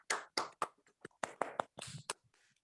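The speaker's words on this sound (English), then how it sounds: "give a thunderous round of applause and welcome each other" Participants in an online club meeting clapping over their unmuted connections, a quick scattered run of separate claps and taps, fairly close and dry, fading out near the end.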